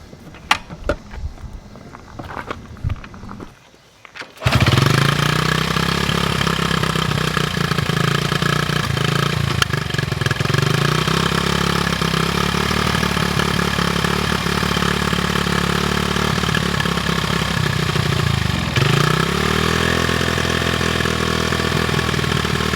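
A 48-year-old Honda XR75 motorcycle with an old carburetor, air screw set 1.5 turns out, catches after a few seconds of quiet fumbling and settles into a loud, steady single-cylinder idle, with a brief dip in revs near the end as the choke is moved.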